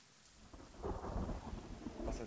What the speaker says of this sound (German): Was ein schöner Regen.